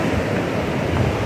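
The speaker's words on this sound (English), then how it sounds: "They probably can't hear us because of the waves." Ocean waves break on a beach during a summer day, producing a continuous loud wash of surf with a low roar and no talk.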